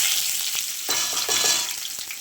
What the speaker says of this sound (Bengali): কুচনো পেঁয়াজটা দিয়ে ভালো করে একটু ভেজে নেব